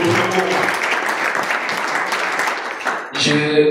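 Church congregation clapping together in loud, dense bursts, with a short dip near the end before another round of applause starts up, voices mixed in.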